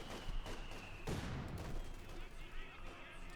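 Rapid MG42 machine gun bursts crackle through a Company of Heroes 2 battle, mixed with other gunfire and explosions in a dense, continuous wartime din, with a voice speaking faintly underneath.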